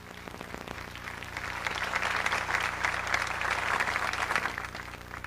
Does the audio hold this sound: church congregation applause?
yes